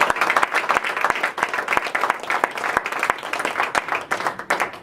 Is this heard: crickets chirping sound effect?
no